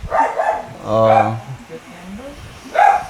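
A dog at a home yips and barks in short bursts, close by, mixed in with people talking and exclaiming around it.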